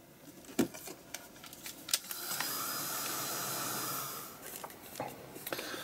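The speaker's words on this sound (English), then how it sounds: "I'm going to give it a quick whiz over with the heat gun and get it dry" A heat gun blows over a painted art journal page, a steady airy whoosh of a few seconds amid light taps and handling noises, fairly faint.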